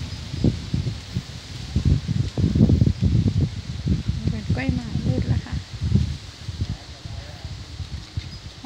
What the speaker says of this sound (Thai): ลมเย็นชื่นใจ